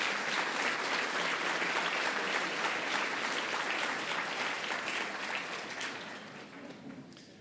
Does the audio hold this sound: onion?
no